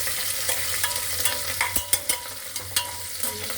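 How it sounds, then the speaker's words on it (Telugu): Garlic, mustard seeds and cumin fry in hot oil with a continuous sizzle, while a spoon stirs the pan with several sharp clinks and scrapes. It is close up and no one speaks. "వెల్లుల్లి, ఆవాలు, జీలకర్ర వేగిన తర్వాత వెల్లుల్లి"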